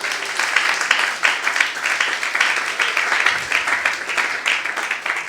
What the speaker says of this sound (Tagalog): Salamat sa palakpak.